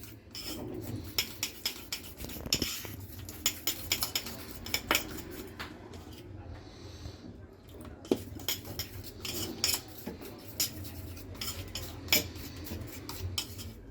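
A spoon stirs oats batter thinned with water in a bowl, making quick repeated clinks and scrapes in an uneven rhythm, close and fairly crisp, with no voices.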